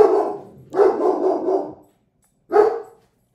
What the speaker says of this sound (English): What do you think about that bark that my dog has?